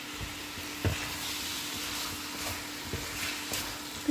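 Kerala-style pork roast sizzles steadily in a pan while a spoon stirs it, giving soft scraping knocks over the continuous frying hiss.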